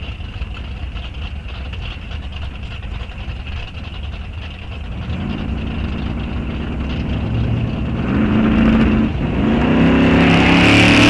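An Oldsmobile drag race car, number 5, running at a raceway test and tune, its engine a deep, rising rumble that grows steadily louder and closer, with revving toward the end.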